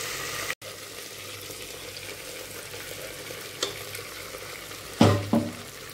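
Steady sizzling of spices tempering in hot oil in a pan for veg salna, with a couple of sharper hisses and stirring scrapes near the end.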